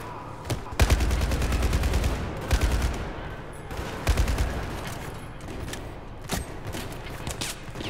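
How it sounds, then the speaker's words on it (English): Battlefield 4 gunfire crackles in repeated rapid bursts and single sharp shots, loud and close, with brief pauses between volleys, while a voice speaks quietly underneath at times. "Why must everybody shoot at me?"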